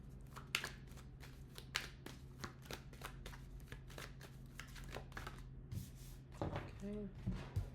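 Tarot cards are handled, shuffled and drawn from decks, giving a rapid series of close, crisp riffling and flicking taps over a low steady hum, with a voice speaking briefly near the end.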